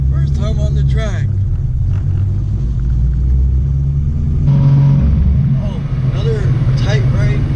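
A Nissan 350Z idling and rolling out onto a drift track, a loud low engine rumble heard from inside the car, rising slightly midway, with someone talking over it throughout.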